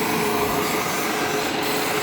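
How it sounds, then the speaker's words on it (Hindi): A pedestal drill bores into boiler headers in an industrial works, giving a loud, steady grinding whine that runs continuously without pause. "ड्रिलिंग हो रही है, पेडिस्टल ड्रिल है हमारे पास, ये हेडर्स की ड्रिलिंग हो रही है"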